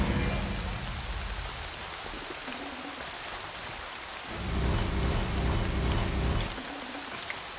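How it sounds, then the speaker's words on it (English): Steady rain pours in the video game Horizon Zero Dawn, a dense hiss with low rumbling swells that suggest thunder, continuous throughout with no voices. "More rain. My boots will get damp."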